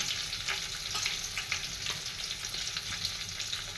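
Curry leaves and turmeric frying in hot oil for vada pav stuffing, a steady loud crackling sizzle with faint stirring movements underneath.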